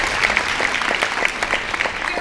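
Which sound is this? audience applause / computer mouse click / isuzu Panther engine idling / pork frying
audience applause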